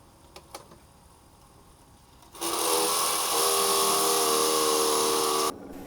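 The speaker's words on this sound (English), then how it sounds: "Then I drill 1/2 inch holes in all those spots." A power drill bores a half-inch hole into metal, a high steady whine lasting about three seconds after a few faint clicks, then cutting off abruptly.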